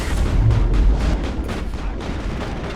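Explosions in the Mass Effect video game, played on Insane difficulty: a loud, dense burst of booming blasts with broadband crackle, strongest in the first second and then settling into a sustained rumbling roar.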